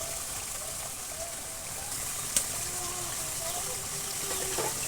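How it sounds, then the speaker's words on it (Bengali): Water runs steadily from a tap while hands are washed in a home kitchen with a clay stove, a soft constant gush with a small knock partway through. "আমার হাত ধোয়া লাগছে।"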